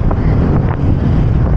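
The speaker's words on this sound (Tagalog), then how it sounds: "Lakas ng hangin." Strong wind buffets the microphone during a road cycling ride on the Eastridge climb, a steady loud rumbling roar with no gaps and no voices.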